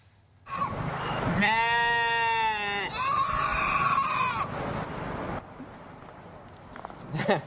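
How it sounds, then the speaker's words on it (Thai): A goat from a herd of about ten seized goats bleats loudly and at length, followed by another wavering bleat, over steady background noise. "เป็นภาพแพะนับ 10 ตัวนะครับ ส่งเสียงร้องกันระงมเลยครับ"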